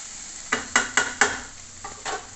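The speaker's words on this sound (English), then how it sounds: "We will lightly toast the rice grains without stirring it too much." Rice grains for onion pulao toast in a pan, giving four quick scraping, rattling strokes in a row, then a couple of softer ones over a faint sizzle.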